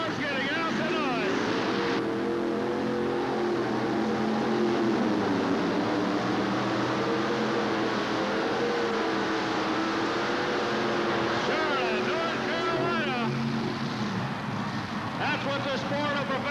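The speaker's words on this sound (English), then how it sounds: "That's what the sport of professional truck and tractor pulling is all about" Pulling tractor engine roaring at a professional truck and tractor pull in Charlotte, North Carolina, 1988, a loud sustained drone that rises and falls in pitch, with an announcer talking over it throughout.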